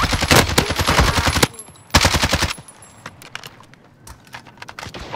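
Rapid automatic gunfire in Call of Duty Warzone (Cold War season 3), loud bursts of close shots that break off, resume briefly, then give way to quieter scattered distant shots.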